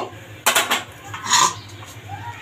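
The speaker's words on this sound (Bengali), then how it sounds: "এভাবে কিছুক্ষণ নেড়ে এখন আমি ঢেকে দিব" Biryani made with fried rice being stirred in a pot, then a lid set on top: a few scraping, clattering utensil-and-metal knocks in short bursts, moderately close, with no talking.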